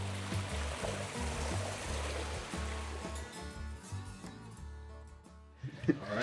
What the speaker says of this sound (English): I guess this is the final look at the completed waterfall